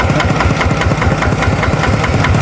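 A farm tractor engine runs steadily on a rural Lao village property, a loud, close, rough chugging drone with a fast regular knock and no pauses.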